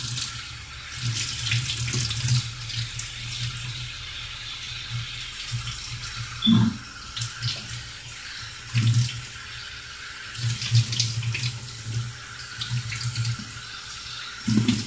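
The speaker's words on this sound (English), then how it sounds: "now I'm going to wash my grapes with soap and water to do the trick for me" Grapes are washed with soap under a running kitchen tap, water streaming steadily into the sink with repeated splashes and handling bursts as the fruit is rubbed and moved, fairly close.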